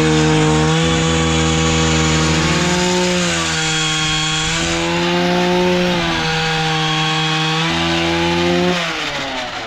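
A two-stroke chainsaw cuts wood while building a tree stand. The engine holds a loud, close, buzzing drone, dipping and rising in pitch as the chain bites and the throttle eases.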